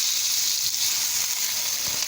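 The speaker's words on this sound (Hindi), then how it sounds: "इसको ढक्कन बंद करके इसको 8 से 10 मिनट के लिए इसको फ्राई करेंगे।" Balochi tikka karahi, meat with ginger and garlic, fries under a closed lid in a pan, giving a steady, even hiss and sizzle close by with no talking.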